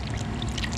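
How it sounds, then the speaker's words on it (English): Liquid pours steadily out of a 20-ounce funnel in a brief, continuous gushing splash that sounds close and fairly loud. "as you see, it just pours right on out. I think this is a 20-ounce funnel."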